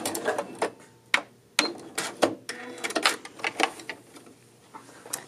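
A sewing machine backstitches at the end of a seam on a tunic, giving a close run of irregular mechanical bursts and clicks that stop and start over a few seconds.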